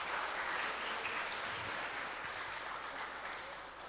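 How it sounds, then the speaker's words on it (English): Steady, dense applause from an audience at a youth oratorical contest in Guam, continuous and fairly loud throughout with no talking. "Let's give her a round of applause."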